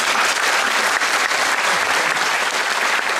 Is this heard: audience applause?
yes